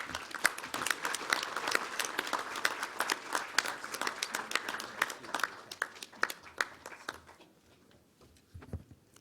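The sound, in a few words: audience applause welcoming Rabbi Jacob J. Schachter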